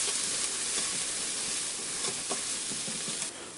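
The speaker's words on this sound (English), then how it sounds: "I'm going to continue sautéing these onions and garlic and those spices just for a minute." Onions, garlic and spices sauté in a pressure cooker, giving a steady close sizzle and hiss with faint stirring scrapes, and no one talking.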